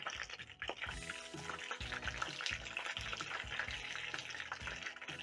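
Smokie sausages fry in a pan over a low flame, a steady, moderate sizzle with crackles and pops, a few brief clatters of stirring or turning breaking in.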